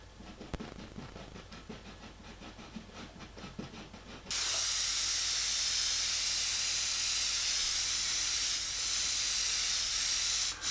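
An airbrush lays a light mist of paint on a realistic tiger mural. Soft ticking comes first, then a steady, loud, close hiss of spray that runs without pause for several seconds.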